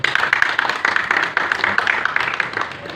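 A church congregation breaks into applause during a sermon, brisk, dense clapping from many hands up close, with voices mixed in.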